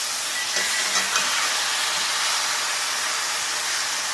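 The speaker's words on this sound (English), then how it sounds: "take the steak and give her a flip." Ribeye steak sizzling in a Lodge 10.25-inch cast iron deep skillet just after flipping, a continuous broad, even hiss held at steady loudness throughout, close and alone.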